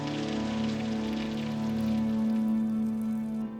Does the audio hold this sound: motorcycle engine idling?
no